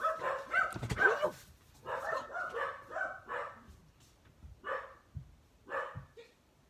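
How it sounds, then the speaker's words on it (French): Several dogs bark indoors at home, bursts of barking repeating in uneven clusters over several seconds, fairly near and moderately loud, with short quiet gaps between volleys. "du coup les chiens aboient alors que les petits dorment en haut"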